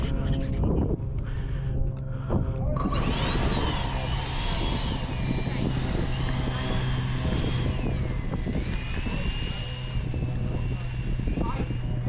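Twin electric ducted fans of a Freewing F/A-18C Hornet Blue Angels 90mm EDF RC jet spool up after a few seconds into a loud, high whine that rises and shifts in pitch, with outdoor wind buffeting the microphone.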